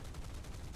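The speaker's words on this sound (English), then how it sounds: "Fire the cannons." Aircraft cannons in War Thunder fire a rapid, continuous burst of dense, rumbling shots, steady and fairly quiet throughout.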